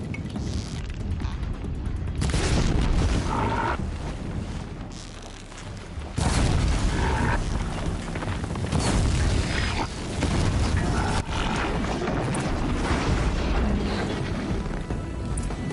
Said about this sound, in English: Ice mortars. I hate the mortars.